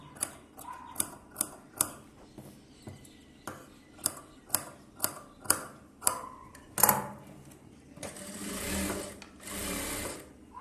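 A sewing machine stitching a blouse, a series of short sharp mechanical bursts spaced about half a second apart, followed by longer continuous whirring runs, close and fairly quiet.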